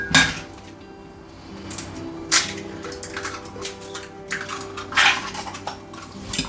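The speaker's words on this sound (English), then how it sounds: "Whisk it up." Three eggs are whisked in a bowl with bacon and cheese slices on hand for cheesy scrambled eggs, with scattered metallic clinks and scrapes of the whisk against the dish, a few sharp taps standing out above a low background hum.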